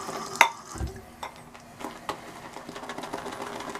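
A brush whips up lather from handmade tallow and shea shave soap, giving soft, quiet swishing and wet stirring with a few sharper clicks and taps, close and faint.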